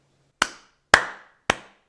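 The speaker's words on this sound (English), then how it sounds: "You can stop clapping now." Three sharp, separate claps, each ringing out briefly in a quiet room, spaced about half a second apart.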